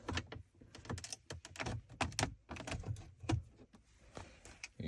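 A trim tool pries the radio trim panel out of a 2006 Chrysler 300C dashboard, producing a quiet, irregular series of sharp plastic clicks and snaps as the clips pop loose, with no talking.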